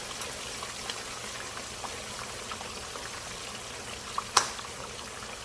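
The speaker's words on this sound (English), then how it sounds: "Fish is frying." A soft, steady bubbling sizzle runs throughout, like food frying in hot oil, with a brief sharp clink near the end.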